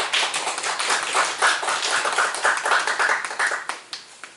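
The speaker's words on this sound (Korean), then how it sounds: "힘찬 박수로 맞이해 주십시오" Audience applause welcoming a speaker at a panel discussion on school meal radiation safety, a dense run of hand claps that holds steady and then thins out toward the end.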